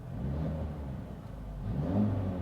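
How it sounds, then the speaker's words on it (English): A Mercedes-AMG engine revving while parked, given a little throttle: a steady, close, loud rumble that rises slightly toward the end as the revs build, with exhaust tone and no talking. "if you are in park, okay, so if I add a little bit of the throttle"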